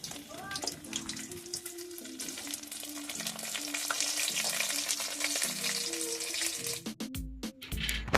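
Water lily (shapla) fritters fry in hot oil with a steady, dense sizzle and bubbling, alongside occasional clinks and scraping of a utensil, with a few sharper knocks near the end.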